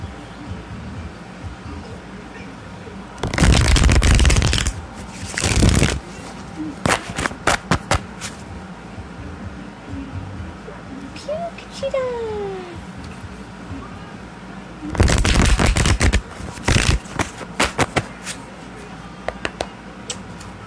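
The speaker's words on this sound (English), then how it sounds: "let's go ahead and shuffle this" Bursts of riffling tarot card shuffles, two long ones and several shorter flicks, with quiet gaps and faint background noise between them.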